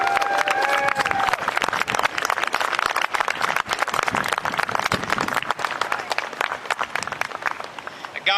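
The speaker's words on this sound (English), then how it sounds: "Please give a big round of applause to Mr. Darren Bailey." A crowd at an outdoor graduation ceremony in Springfield, Illinois claps loudly and continuously, with scattered whoops and a voice rising above the applause near the start.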